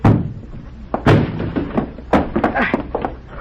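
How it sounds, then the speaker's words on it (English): A door is battered and broken down in a 1950 science-fiction radio drama, heavy repeated thuds and splintering crashes in quick succession, loud and close. "Break down the door."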